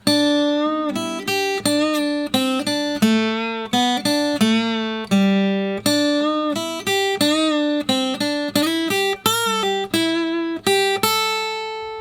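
An electric guitar plays a clear single-note melodic line from a guitar solo, notes plucked one after another with slides and bends, close and unaccompanied.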